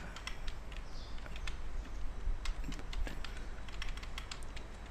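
Quick, irregular clicks of a computer keyboard being typed on up close, bursts of keystrokes with short pauses over a low steady room hum, no talking.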